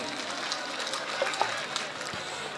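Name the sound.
audience clapping for a dancing boy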